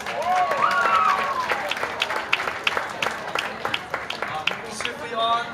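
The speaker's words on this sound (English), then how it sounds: "give another round of applause for Mike for Peace" Festival audience applauding, a dense steady clatter of many hands that tapers slightly while scattered whoops and voices rise above it throughout.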